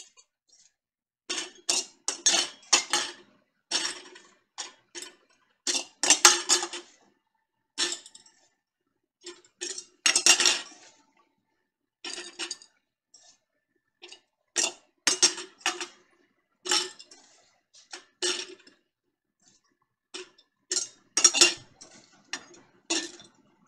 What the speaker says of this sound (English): we are going to take those three chopped onions and just equally distribute them throughout the jars.